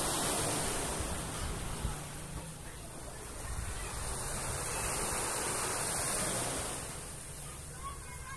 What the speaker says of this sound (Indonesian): Suara ombaknya, aduh, sangat-sangat indah dengar.